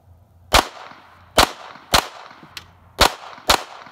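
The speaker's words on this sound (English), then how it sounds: "let's just shoot some of these bowling pins, some of the steel here." Ruger Standard pistol firing at bowling pins and steel targets outdoors, six sharp loud cracks at uneven intervals of roughly half a second to a second, each with a short ringing tail and quiet gaps between.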